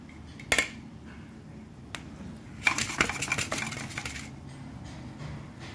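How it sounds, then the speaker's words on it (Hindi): A knife taps and clicks sharply as paneer is cut on a kitchen surface and dropped into a pan, a few scattered strikes followed by a quick cluster of clatters, close and fairly quiet. "अब हम पनीर काट लेते हैं।"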